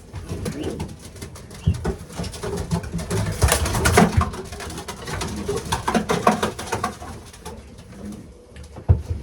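Racing pigeons at their loft coo and murmur close by in an overlapping chorus, with rustling, shuffling and occasional wing flaps among the birds.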